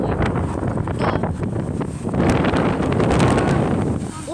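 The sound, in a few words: very strong wind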